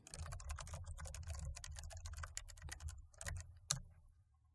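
Rapid keystrokes on a computer keyboard entering certificate fields for an OpenSSL certificate authority on Ubuntu Server, a dense run of close, crisp clicks that thins out toward the end with one louder final tap.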